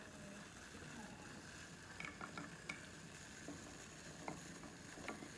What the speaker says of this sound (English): Add in some more wax and just keep stirring.